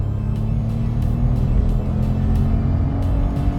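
A 2020 Renault Clio accelerates on the road, its engine drone steady and close inside the cabin, climbing gradually through the revs with no talk over it.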